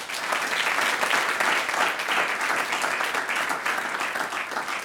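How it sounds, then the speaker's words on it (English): Audience at a panel discussion applauds the guests, a continuous, even roar of many hands clapping that holds steady for several seconds. "Please give them a warm round of applause."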